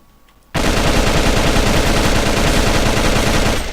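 After a brief quiet moment, an M16A2 rifle in the shooter game AVA opens up on full auto, a loud, unbroken stream of rapid shots that runs steadily to the end.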